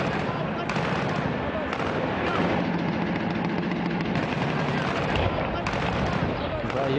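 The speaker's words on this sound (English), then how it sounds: "I hear gunfire." Gunfire during urban combat in an Iraqi town, a dense continuous crackle of shots and bursts with no clear gaps, fairly distant and steady throughout.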